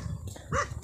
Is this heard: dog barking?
yes